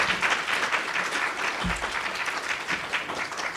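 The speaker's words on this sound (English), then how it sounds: "Give them a big round of applause." An audience claps for presenters at a talk on social activism in Pakistan, giving dense, continuous applause at moderate distance with no speech over it.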